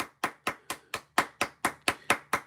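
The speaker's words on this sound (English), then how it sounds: "Right now, I want to give you the clap because that was really awesome." Hand clapping, about ten sharp, evenly spaced claps at a steady moderate pace, close and distinct, with a faint low hum underneath and no talk.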